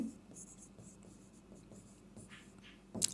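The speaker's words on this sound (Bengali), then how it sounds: "সো আমি ফ্ল্যাশ কার্ড লিখে দিচ্ছি।" Pen writing flash cards by hand, a steady soft scratching of strokes on card for about three seconds, close and quiet, ending with a brief louder rustle.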